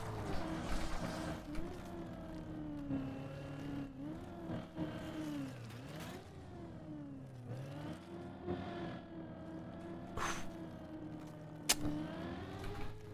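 A car engine in the Trackmania racing game whirs and revs, with repeated rising and falling pitch sweeps as it accelerates and slides, fairly quiet and continuous with no talk.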